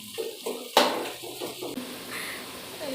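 Onions and tomatoes are stirred in a cooking pot, with a few short scraping strokes and one sharp metallic clank of the utensil against the pot over faint background sizzle.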